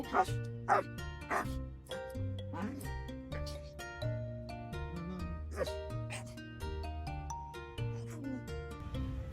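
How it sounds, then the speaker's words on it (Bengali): A dog barks and yips excitedly in quick, uneven bursts, with whimpering notes in between, heard over steady background music. "এর মধ্যে ব্রুনো অন্য আরেকটা কুকুরকে দেখে আবার হাইপার হয়ে গিয়েছে।"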